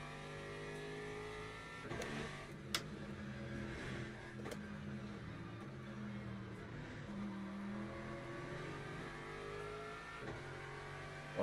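An LMP prototype race car in the Le Mans Ultimate racing game revs and drones faintly at a distance, with engine tones rising and falling and a few sharp clicks over a low background.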